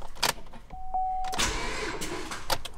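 Cammed LS3 engine in a fifth-generation Camaro with headers and cold air intake, cranking over sluggishly on a weak battery in short, close bursts after a brief electrical whine, with no talking.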